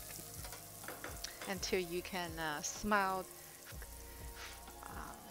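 Minced garlic and scallion fry in leftover oil in a pan, a steady sizzle with stirring clatter running beneath a person talking.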